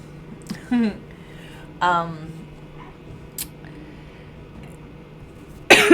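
A few short, harsh coughs spaced apart, close to the listener, against a quiet room background with a faint rustle.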